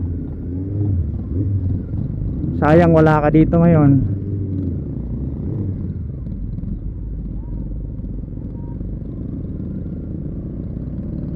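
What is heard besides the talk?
borrowed motorcycle riding on a charity ride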